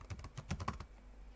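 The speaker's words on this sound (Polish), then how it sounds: "Więc wpisuję swój login, hasło" Quick burst of typing on a computer keyboard while entering a login and password, about a dozen close, soft key clicks in an uneven rhythm, then quiet.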